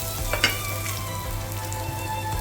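Ingredients for Kerala-style upma wilt with a pinch of salt in a hot pan, giving a steady close sizzle and frying crackle, with a brief stirring clatter near the start.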